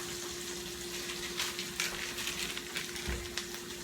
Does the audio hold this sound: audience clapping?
no